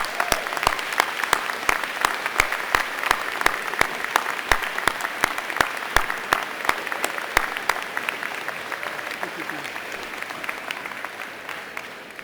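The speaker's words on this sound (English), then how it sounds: "please join us in a warm round of applause for them." A large university convocation audience applauds supporters at a spring ceremony in Winnipeg, a dense, steady wash of many hands clapping with sharp individual claps standing out, holding strong for most of the stretch before tapering slightly near the end.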